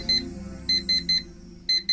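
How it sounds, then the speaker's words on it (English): In the video game Actual Sunlight, an alarm clock rings in quick bright electronic beeps that come in short groups with gaps, over a soft low musical background. "why did you set your alarm clock for 5 a.m."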